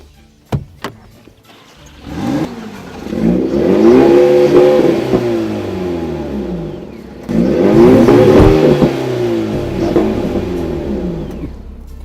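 A flat-six sports car engine rated at 370 horsepower revs hard twice, each rise a loud close snarl that climbs and then falls back, with a short clatter before the first rev.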